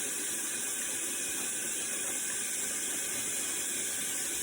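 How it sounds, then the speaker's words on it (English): Tap water runs steadily while a small dish is rinsed out during home hair coloring, a constant close hiss and splash with no talking. "I'm just going to rinse out my little dish"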